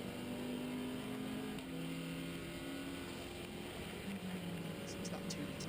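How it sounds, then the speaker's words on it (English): Seat Leon race car with a 2-litre turbo engine accelerating hard down a circuit back straight, a steady loud engine drone with rising harmonic tones heard from a distance, under a constant broadband roar. "It's that 2-litre turbo engine just propelling it down this back straight at real breakneck speed."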